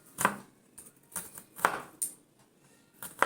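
A knife chops soybean chunks into small pieces on a board, several sharp, close knocks spaced irregularly with short pauses between them.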